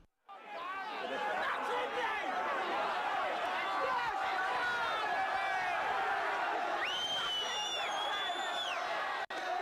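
Crowd at a 1986 unlicensed boxing event, a dense, steady roar of chatter and shouting that carries on throughout, with whoops and cheers rising near the end.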